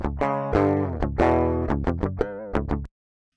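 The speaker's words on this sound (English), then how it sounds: "So you can hear a bit of overdrive coming in there." Electric guitar chords pushed through a free amp-simulator plugin set to clipped overdrive, loud and gritty, strummed in a choppy rhythm of short bursts that stop abruptly near the end.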